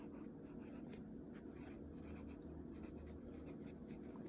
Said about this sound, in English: I'm gonna write it down here, parts.